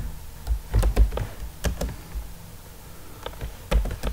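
A computer keyboard clatters as PHP code is typed, irregular bursts of close key taps with short pauses between them and no talk.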